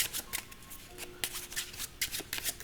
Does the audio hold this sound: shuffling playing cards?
yes